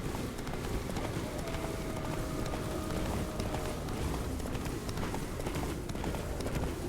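Galloping horse hooves in The Witcher 3 video game, a steady rapid clip-clop running continuously under dense ambient game sound, with no talk.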